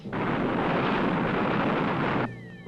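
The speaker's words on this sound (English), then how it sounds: "Fire retro rockets." Spaceship retro rockets fire for landing as a film sound effect: a loud, dense roaring blast holds steady for about two seconds, then cuts off abruptly, leaving faint tones.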